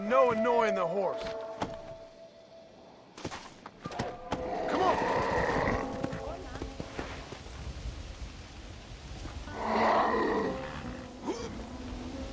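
Horse in the Red Dead Redemption: Undead Nightmare video game, with snorts and grunting bursts mixed into a busy game soundtrack, a louder burst near the end, while characters talk over it.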